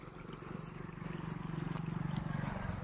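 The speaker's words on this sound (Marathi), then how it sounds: "कसं वाहतं इथून पाणी झाडं आंब्याच्या खालनं" Water flowing along an irrigation canal past mango trees in a farm field, a soft continuous trickling and gurgling heard up close at low volume.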